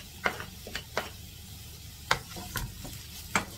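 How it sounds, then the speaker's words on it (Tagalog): Onion and ginger sautéing in a pan, a soft steady sizzle broken by several sharp scrapes and taps of stirring. "Sobrang gisang-gisa po natin."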